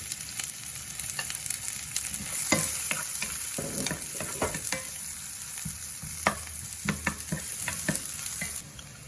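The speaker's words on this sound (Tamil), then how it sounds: "வெங்காயம் கொஞ்சம் நல்லா வதங்கி வரட்டும்." Chopped onions and green chillies sauté in a hot pan with a continuous close sizzle, while a spatula stirs and scrapes at irregular intervals; no one speaks.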